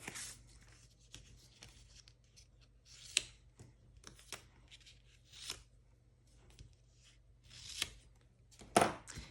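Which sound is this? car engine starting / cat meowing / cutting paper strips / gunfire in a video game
cutting paper strips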